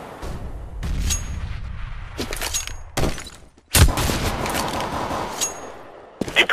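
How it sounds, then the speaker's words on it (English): Flashbang grenades and gunfire in a tactical shooter video game: several loud, sharp bursts and booming blasts, one large blast near the middle, over a dense continuous background of in-game noise. "Throw in a flashbang! I'm throwing a flashbang."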